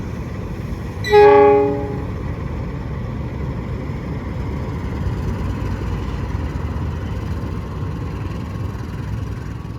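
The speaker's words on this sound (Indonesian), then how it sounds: "kereta api Jakatingkir yang melintas langsung di stasiun Cikampek" A Jakatingkir train passes straight through Cikampek station, opening with one loud horn blast, then a steady rumble and clatter of rail cars rolling by.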